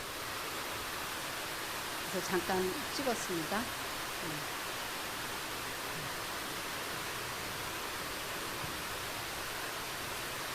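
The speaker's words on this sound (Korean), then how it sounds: "저게 집 앞인데도 저렇게 물이 강물같이 흘러내려가요." A heavy rainstorm sends water rushing like a river past the front of a house, a loud steady broadband roar with thunder and lightning in the area, while a voice speaks briefly over it.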